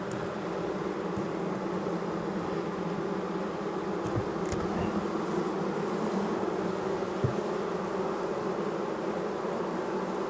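Honeybees from a weak colony after feeding hum in a steady, continuous buzz close by, with occasional individual bees flaring louder; no voices.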